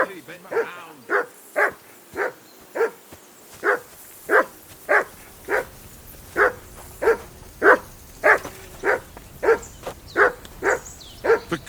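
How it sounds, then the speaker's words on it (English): A dog in the medieval video game Kingdom Come Deliverance 2 barks repeatedly in a steady, evenly spaced rhythm of nearly twenty loud, close barks that carry on through the whole stretch. "Call off that damn dog before he wolfs down the last of our meat"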